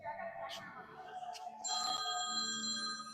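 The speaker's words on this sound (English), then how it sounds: "We got a phone call." A telephone rings with an incoming call at a cow patty bingo fundraiser, its steady, bright electronic trill coming in partway through and running on under a voice and background clatter.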